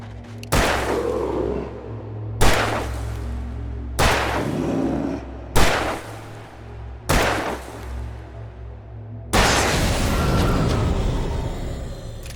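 Five loud, sharply separated gunshots from a gun in a video game, each a hard bang followed by a short decaying tail, spaced about one and a half seconds apart, ending in a longer, rougher burst.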